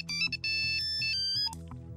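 A mobile phone ringtone chirps out a bright electronic melody, loud and close, during a scene in the Hindi film Chain Kulii Ki Main Kulii, breaking off near the end.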